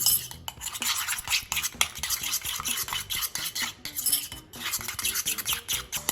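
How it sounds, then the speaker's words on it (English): A utensil clinks and scrapes rhythmically against a bowl as mayo, mustard and Sriracha are stirred together, close-up bursts of clatter with brief pauses and no talking. "it's 2 parts mayo, 1 part mustard and Sriracha, and mix that in"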